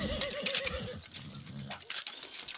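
A horse in the video game Far Cry 6 neighs and whinnies, mixed with hoof clatter and rustling, the sounds rising and falling over a couple of seconds at close range.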